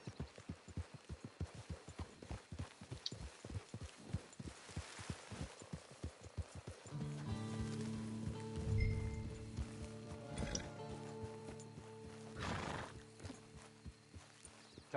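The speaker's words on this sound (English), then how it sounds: "Get your horse." Horse hooves clip-clop in a steady walking rhythm in Red Dead Redemption 2 for the first half, then give way to a sustained musical drone with occasional snorts and whinnies, and the hoofbeats fade out.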